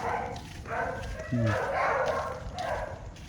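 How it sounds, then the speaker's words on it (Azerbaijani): A yard where eight dogs are kept, on a night street in Veracruz, Mexico: dogs bark faintly and briefly, with one short clear bark, under steady nearby talking. "İtlər ulaşırlar."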